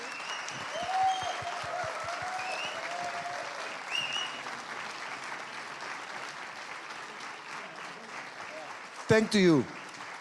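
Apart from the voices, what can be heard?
audience applause for event organizers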